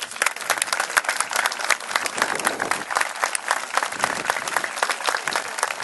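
Steady, dense applause from a sizeable crowd at a school ceremony, many hands clapping at once in a continuous wash of sound with a few louder claps standing out.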